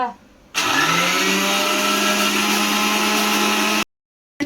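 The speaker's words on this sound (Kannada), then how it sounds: "ಮಿಕ್ಸಿಲಿ ಗ್ರೈಂಡ್ ಮಾಡ್ಕೊಂಡಿವಿ ನೋಡ್ರಿ" A kitchen mixer grinder blends mango pieces for a milkshake, starting abruptly after a brief quiet moment and whirring loudly and steadily for about three seconds before cutting off suddenly.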